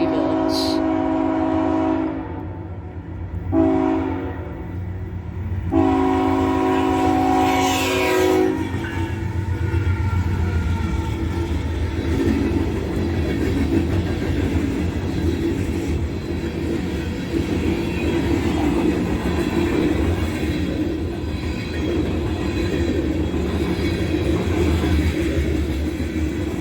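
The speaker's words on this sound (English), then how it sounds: "Here's CSX I003, a train that runs out of South Kearney" A CSX freight train passes close by. Its horn sounds in repeated blasts at the start, then a long, steady rumble of wagons rolls past with some clatter, lasting throughout.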